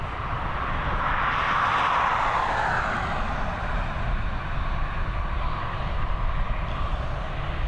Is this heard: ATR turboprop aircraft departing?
yes